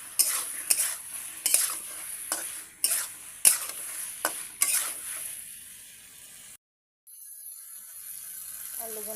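Potatoes are stir-fried in a spice paste, a spoon or spatula scraping the pan in repeated strokes about every half second over a steady sizzle, close and clear, before the scraping stops and only a quieter sizzle remains.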